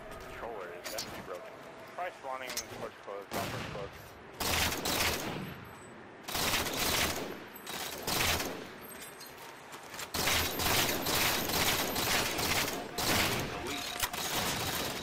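Bursts of rapid gunfire from a multiplayer shooter game in a 2v2 match, loud volleys of automatic fire and single shots coming in clusters over about fifteen seconds, with a commentator talking throughout.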